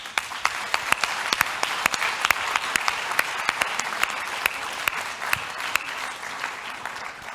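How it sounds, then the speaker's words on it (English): Conference audience applauding at the closing session of an intellectual property network conference, a sustained round of many hands clapping with distinct sharp claps standing out, steady and fairly close. "I want all of you to join me in giving them a big applause."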